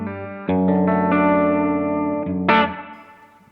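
Electric guitar run through a Crazy Tube Circuits Sidekick Jr pedal on its hall reverb setting: sustained chords ring out with a long, spacious wash, a new strum partway through, then a final chord that fades into a reverb tail.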